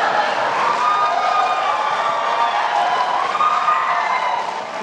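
Dense, steady crowd noise of an audience applauding and cheering at the 2016 second presidential debate between Donald Trump and Hillary Clinton, a loud continuous wash of clapping and voices that holds for the whole stretch.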